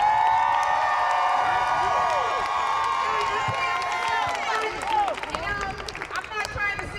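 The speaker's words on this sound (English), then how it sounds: "Buffalo, applaud yourselves." Street crowd in Buffalo breaking into cheers and applause, whoops and shouts rising over a dense wash of clapping, with voices talking near the end.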